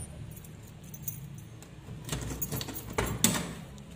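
A bathroom door in a newly built bungalow is opened, giving a short run of clicks and rattles like a handle or latch. Two louder bursts come near the end, close by, with no speech.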